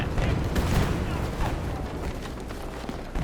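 Heavy gunfire and booming blasts from a video game battle, with a tank's shots landing amid a dense, continuous barrage of loud explosions and shooting.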